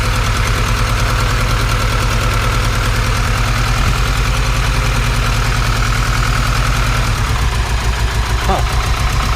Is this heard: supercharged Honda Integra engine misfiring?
yes